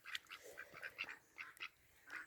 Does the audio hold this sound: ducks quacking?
yes